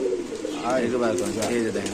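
Pigeons at a market stall selling Pakistani Giribaz and racer pigeons make soft, continuous cooing that is close and steady, mixed with nearby voices and crowd noise.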